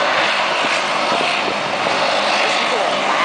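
Propeller airplane engine drone as a plane arrives, a steady broadband roar filling the whole clip at close to moderate distance, with people's voices faintly mixed in.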